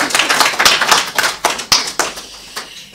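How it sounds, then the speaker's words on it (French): Scattered hands clap at a book presentation, a loud but thin round of separate sharp claps in an uneven rhythm that thins out toward the end. "Moi, j'aimerais quand même qu'on l'applaudisse."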